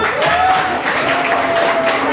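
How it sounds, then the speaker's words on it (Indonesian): A crowd applauds steadily for about two seconds, a dense wash of clapping with no clear pauses. "Oke, tepuk tangan."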